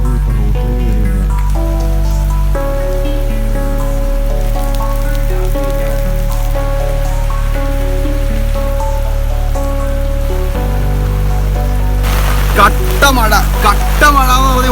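Heavy, non-stop monsoon rain pours in Aluva, Kerala, during floods with the Periyar river spilling onto the road. It makes a loud, constant wash of rain with a steady droning hum underneath and faint voices toward the end.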